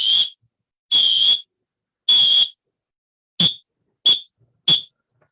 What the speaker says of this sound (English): I'm going to use a whistle.